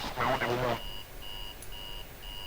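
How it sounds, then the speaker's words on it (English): Wake-up alarm in the video game F.E.A.R. 2, a repeating high electronic beep in evenly spaced pulses, heard faintly after a brief voice at the start. "That's such a wake-up alarm."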